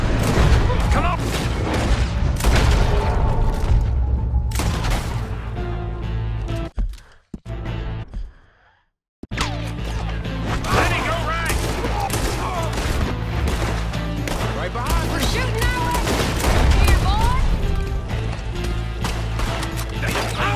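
Gunfire from the Red Dead Redemption 2 video game, with dense rapid shots and booms running nearly continuously alongside talk, broken by a brief quiet gap midway before the firing resumes.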